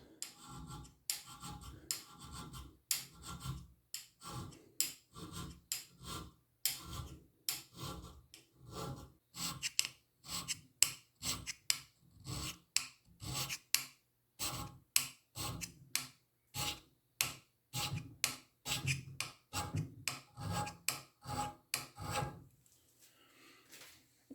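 Hand scraper working a metal surface during scraping to fit, a long series of short, crisp rhythmic strokes, close and fairly quiet, repeating steadily with brief gaps between each pass.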